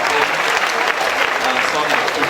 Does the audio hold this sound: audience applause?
yes